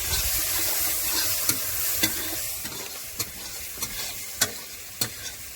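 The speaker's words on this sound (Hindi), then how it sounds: "सारा मसाला डाल दिए हैं और इसको अच्छी तरह से भून दे रहे हैं" Snails being stir-fried with spice masala in a pan, a continuous loud sizzle punctuated by sharp, evenly spaced clicks and scrapes of a spoon against the pan, close and without voices.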